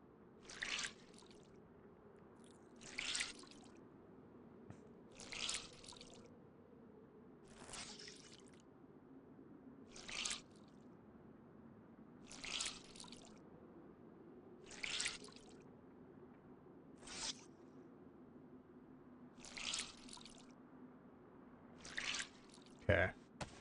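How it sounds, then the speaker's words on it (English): Wet clothing wrung out in the DayZ video game, giving about ten short squishy water drips at a steady, regular pace over a low, continuous background rumble. "See if I can wring this out a little bit."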